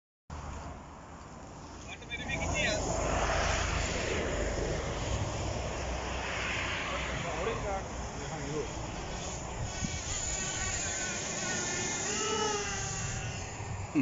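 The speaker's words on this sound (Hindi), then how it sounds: "ड्रोन भाग गया, ड्रोन मुझसे डर गया, ड्रोन को मैंने डरा दिया।" A drone flies over the hills near Edinburgh, Scotland, its buzzing motor whine rising and wavering at a moderate distance beneath a steady wind-like roar, with a voice talking over it.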